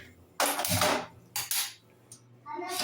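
A metal kadai is set down on a kitchen stove in two or three sharp clanks and scrapes of metal on metal, close and moderately loud, with quiet gaps in between.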